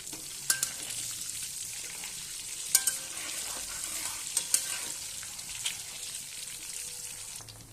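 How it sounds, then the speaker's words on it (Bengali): An egg sizzles steadily in hot oil in a pan, salted from above, with a continuous crackling hiss and a few sharper pops and spatters scattered throughout, no voices present. "এবার আমি ডিমটা ভেজে নেব।"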